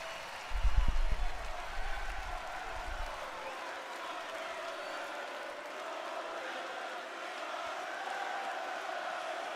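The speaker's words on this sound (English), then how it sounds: "Damn, listen to this crowd." A WWE SmackDown arena crowd roars and cheers in a broad wash of noise, with a loud burst near the start that settles into sustained crowd din.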